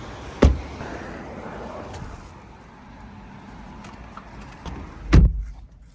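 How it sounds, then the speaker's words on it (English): Two sharp, solid thumps of a 2021 BMW 330i xDrive's car door shutting, one early and one near the end, over a low steady rumble of idling or ambient noise. "Closing the door sounds really nice."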